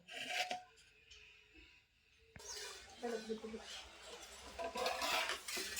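A spoon scraping and clinking against a metal lunch box while soft upma is served, several quiet scrapes and stirring rubs close by, with a person talking.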